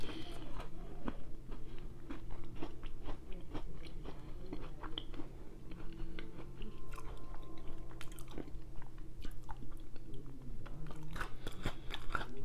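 Close crunching and chewing of a chocolate-covered Oreo cookie, with repeated crisp bites and wet mastication noises in an irregular rhythm.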